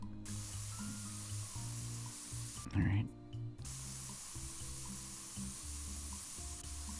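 A spray tool in the Spray Paint Simulator game gives a steady hissing spray that runs continuously, briefly stopping once, under a voice talking over it.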